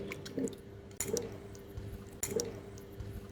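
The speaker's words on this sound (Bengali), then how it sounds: "তো এখন আমি পানি দিয়ে দিব পরিমাণ মতো।" Water is poured into a hilsa fish curry in a pan, three separate wet splashing pours with soft liquid squishing between them, close and moderately quiet.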